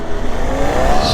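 An Ola electric scooter on the move, a steady loud whir with a faint rising electric whine and wind rush, close and continuous with no talk.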